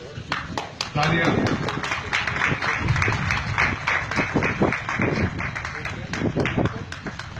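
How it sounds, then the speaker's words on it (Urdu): Audience applause at an event honoring Shaheer Sialvi, a dense wash of many hands clapping loudly and steadily throughout, with voices and shouts mixed in underneath. "تالیاں"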